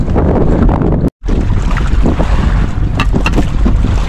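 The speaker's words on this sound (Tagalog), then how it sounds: "Hangin mga kaibigan, kanina kalmada." Strong wind buffets the microphone in a loud, continuous roar with gusty rumbling, briefly cut by a moment of silence.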